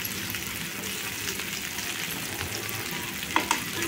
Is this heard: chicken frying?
yes